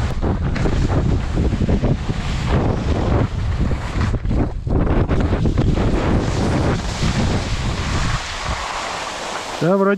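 Wind blowing over snow on a mountain slope, strong gusty roar buffeting close by, steady then easing near the end.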